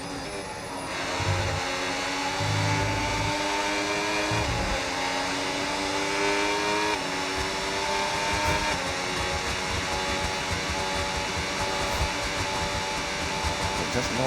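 Formula 1 race cars in an F1 league video game race, a steady layered engine whine with rising gear-shift sweeps throughout, continuous and fairly loud.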